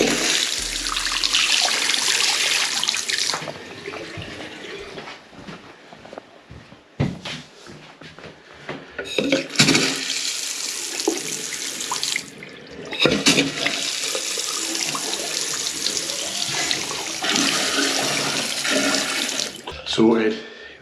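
Water rushes and hisses through a tap and pipes in steady surges while a sink or toilet is refilled after plumbing repair, with brief sputters and pauses as the flow restarts.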